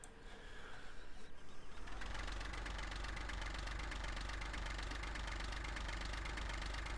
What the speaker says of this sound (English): that sounds like a proper loader, that does